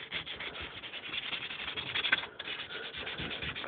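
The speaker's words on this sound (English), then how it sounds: "I'm just sanding kind of the seat." Hand sanding on the valve seat of a 1/2 hp engine head during a rebuild, a close, steady rubbing scrape with repeated back-and-forth strokes and no talking.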